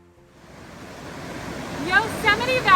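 Whitewater rapids of the Merced River in Yosemite Valley rush during spring high water, a broad continuous roar that swells over a few seconds, with a bright splashy edge near the end.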